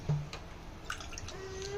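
Water is poured from a glass into a pot sitting on a kitchen stove while cardamom tea is being made, giving a faint, soft splashing trickle that runs for a couple of seconds in a quiet room.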